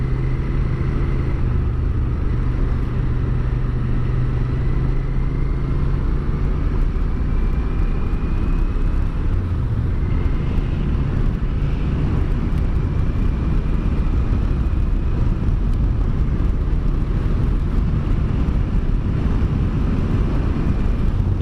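Yamaha TDM900 motorcycle exhaust with baffles removed while riding on an open road, a steady loud engine drone with wind rush and slight pitch shifts through gear changes.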